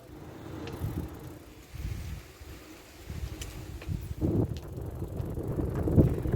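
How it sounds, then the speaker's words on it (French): Wind on the island of Noirmoutier at the end of summer buffets the microphone in low, uneven gusts that rise and fall throughout, with faint rustling in the background. "Alors, il y a un peu de vent là."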